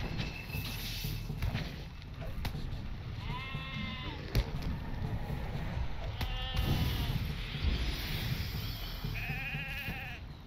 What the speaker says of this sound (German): Kann man das Schaf nicht stumm schalten?